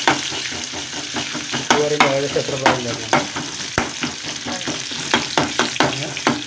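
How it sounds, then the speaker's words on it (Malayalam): Shallots and garlic frying in oil in a pan, a steady close sizzle broken by repeated scraping strokes of a spoon stirring, with no talking. "ചെറിയുള്ളി വെളുത്തുള്ളി നന്നായി മൂപ്പിച്ച്"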